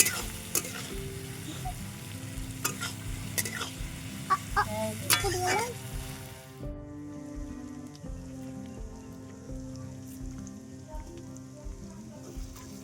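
Onions frying in a pan for a meat curry, a close steady sizzle with stirring scrapes and spatula taps in the first half, settling into a calmer crackle while faint background sounds continue.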